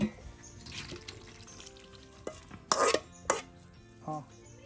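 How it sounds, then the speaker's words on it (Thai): Knife chopping onions in a home kitchen for a Thai bitter mushroom salad (koi het khom), a few crisp irregular chops with faint water and dish clatter in between. "เขาสิหั่นหัวหอม"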